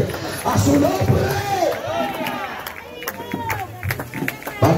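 A church congregation claps and cheers together in a lively burst that trails off, with voices calling out over the applause in a reverberant hall.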